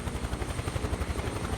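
A Huey helicopter in Microsoft Flight Simulator 2024 flies low with a fast, steady rotor thump pulsing over a dense, loud engine roar, with no talking.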